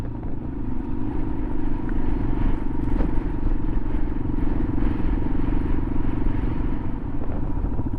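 A motorcycle rides between two super wet, muddy ruts, its engine a close, steady rumble with clattering and scraping from the rough ground throughout.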